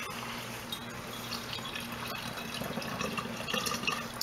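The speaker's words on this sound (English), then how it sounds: "I'm going to pour a little bit into the bottom of my bottles here" Freshly juiced liquid, a little foamy, poured into the bottoms of bottles for water kefir, giving a steady trickling, splashing pour that runs without a break and builds slightly toward the end, close and moderately quiet, with no talking.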